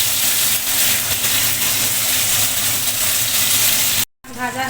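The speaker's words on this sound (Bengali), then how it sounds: "ওকে, অপর দিকে একটু উল্টে দিই, আর একটু ভালোভাবে ভাজা হয়ে যায়।" Fish sizzling loudly in hot oil in a pan for a Bengali village-style curry, a dense, continuous frying hiss close up, then a brief cutout and a bubbly burst as the pieces are turned over.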